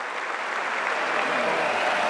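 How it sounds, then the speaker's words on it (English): A large bullring crowd in Lisbon breaks into sustained applause and cheering for the bull, a dense continuous roar of clapping that holds steady and grows slightly louder, with no clear voices standing out. "See, they're cheering for the bull"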